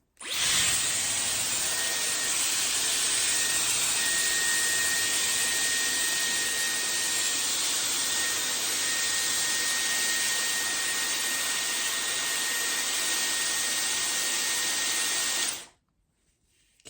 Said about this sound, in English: I'm gonna blow dry my roots and then I will curl the rest of my hair.